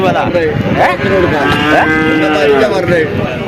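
A water buffalo lows repeatedly, deep drawn-out calls rising and falling close by, over a steady background hum.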